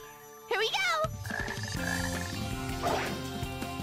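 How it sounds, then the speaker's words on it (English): A frog croaks in the Sonic Heroes video game, a couple of bright, warbling croaks standing out over game music and effects, fairly loud and close. "I also see a frog."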